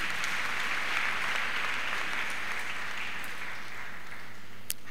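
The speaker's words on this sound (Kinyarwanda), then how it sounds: "Mumuha amashyi nawe azi Ikinyarwanda cyinshi cyane." A church congregation applauds a priest, a steady, even wash of many hands clapping, heard from a moderate distance and fairly soft, with no voices over it.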